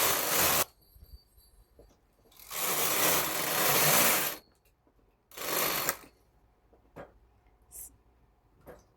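Knitting machine carriage sliding across the needle bed knitting rows at tension 6, three loud rasping sweeps a second or two each, separated by pauses with light clicks and handling noises.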